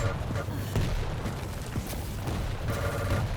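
Rocket launcher blasts and explosions from a Quake Champions grand final match, a few dull booms and gunfire bursts in a busy, muffled game mix.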